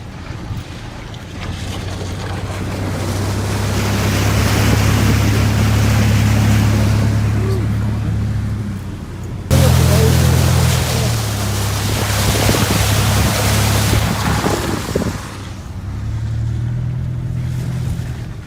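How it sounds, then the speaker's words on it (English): A built Ford Ranger fords deep water off-road, its low engine drone loud and close beneath a steady rush of churning, splashing water and wind buffeting, with a brief break midway before the surge resumes. "we went through some deep water"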